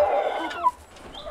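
Chickens cluck softly near a chicken wagon on an evening in spring in northern Sweden, a short burst of low clucking followed by a faint higher call, at moderate distance with no talking.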